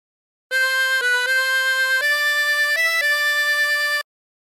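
A 16-hole tremolo harmonica plays the fourth phrase of The Yellow Rose of Texas as one unbroken line. Shimmering reed tones step up and down between several held notes over about three and a half seconds. It sounds close and plays alone.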